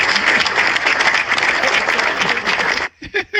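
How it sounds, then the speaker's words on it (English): Loud, dense audience applause fills the room, then breaks off into a few scattered, uneven claps. "Let's clap it up for that."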